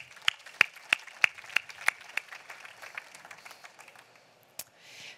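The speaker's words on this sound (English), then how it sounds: "Please give a warm round of applause." Keynote audience applause at an automotive design talk, a scattered group clapping in a quick rhythm, fairly distant and soft, thinning out toward the end.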